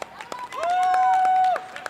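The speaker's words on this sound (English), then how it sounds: "Everybody clapping behind us, in front of us." Scattered claps from spectators at a wushu championship gunshu event ring out in sparse bursts, joined by a sustained vocal shout or cheer in the middle.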